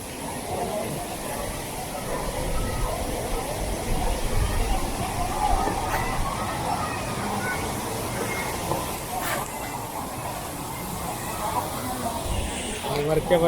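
Savdav waterfall in Konkan, heard from its top section where people bathe: a steady, broad roar of rushing water close by, unbroken for the whole stretch, with faint voices of people in the background.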